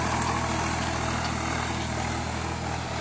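An old Swraj 735 tractor, about thirty years old, ploughs a harvested millet field, its engine giving a steady, continuous low drone that stays close and constant throughout with no talk over it.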